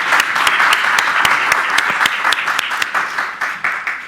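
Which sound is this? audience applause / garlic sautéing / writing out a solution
audience applause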